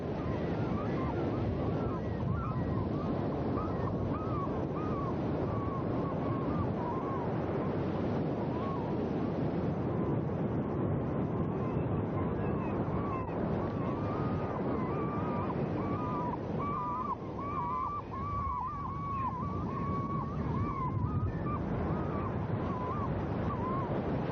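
Ocean waves on the seashore at Choshi, Chiba, Japan, a steady broad wash of surf with wind buffeting, faint bird calls faintly above.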